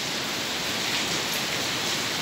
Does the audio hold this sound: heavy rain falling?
yes